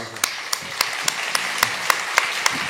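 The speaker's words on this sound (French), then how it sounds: "230 km en vélo, on peut applaudir pour ça." An audience claps with a steady background of applause, marked by a regular series of sharper single claps standing out close by.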